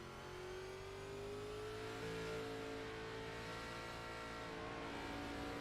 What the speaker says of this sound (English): Really unorthodox throttle coming up the hill out of turn number 1